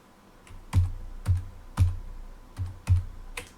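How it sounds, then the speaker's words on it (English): Keys on a Commodore 64 keyboard, the STOP and RESTORE keys, pressed repeatedly at a steady pace, five or six distinct plastic clacks close to the microphone with no talking. "now I'm going to attempt to press the stop and restore keys"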